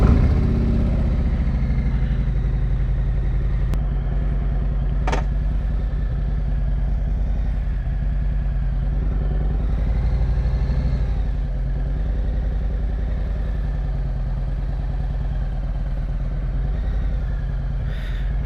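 A motorcycle engine drones steadily through a Bell Eliminator helmet on a ride, a constant low rumble mixed with wind rush and a sharp tick or two.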